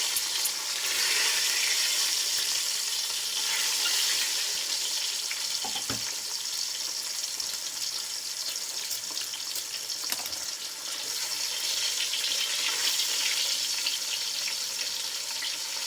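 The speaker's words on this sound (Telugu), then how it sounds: "ఇప్పుడు ఘాట్లు పెట్టుకున్న ఈ గుడ్లను ఈ ఆయిల్లో వేసి కొద్దిసేపు ఫ్రై చేసుకున్నామండి." Eggs frying in hot oil give a steady, bright sizzle that carries on without a break, with an occasional clink of a utensil against the pan.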